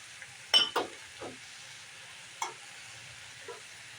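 Peas tipped into a sizzling frying pan while cooking a Bengali drumstick-flower chorchori, giving a soft, faint sizzle broken by a few brief clattering stirs.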